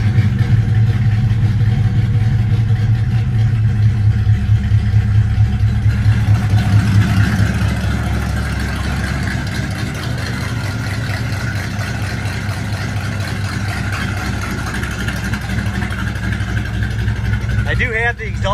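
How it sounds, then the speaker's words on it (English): A 1958 Plymouth Fury V8 with Sniper fuel injection idles loudly with its exhaust cutouts open, a steady close rumble that eases slightly partway through; someone talks over it. "I do have the exhaust open, that's why it's so loud."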